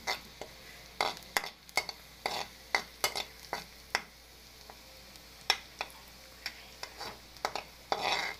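Garlic and onion sautéing in cooking oil, a low sizzle under frequent sharp clacks and scrapes of a spatula tapping and stirring in the pan, close and fairly quiet, with nobody speaking.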